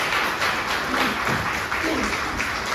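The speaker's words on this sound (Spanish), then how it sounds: "Dale otro fuerte aplauso, Señor" A church congregation during a pastor's sermon claps and cheers for the Lord, a dense, continuous roar of hands and raised voices filling the room at steady loudness throughout.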